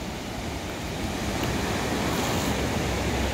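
Sea waves wash onto a beach near Petatlán, Guerrero, on Mexico's Pacific coast, a loud continuous roar of surf mixed with wind buffeting the microphone, with no talking.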